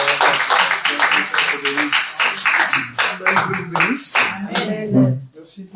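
A church congregation at a midweek service claps loudly and rhythmically to welcome the pastor, dense close hand claps mixed with cheering voices and shouts.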